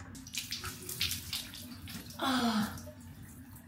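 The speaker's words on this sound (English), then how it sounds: "splash my face" Water splashes on a face at a bathroom sink, running tap water with a burst of splashing near the middle, close by, with small exclamations from a person.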